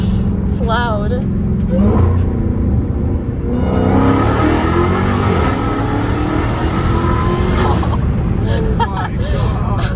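A Dodge Challenger Hellcat Redeye engine roars loudly and steadily nearby at a drift meet, with revving surges throughout and excited voices talking over it.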